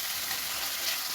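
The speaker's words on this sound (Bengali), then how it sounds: "আমি প্রথমে পেঁয়াজটা কিছুক্ষণ ভেজে নিব, এতে লবণ দিয়ে দিলাম। এখন আমি একটু রসুন বাটা দিয়ে দিব, একটু আদা বাটা দিয়ে দিলাম।" Onion sizzles in a pan with garlic and ginger paste, a steady close hiss of frying with no talk.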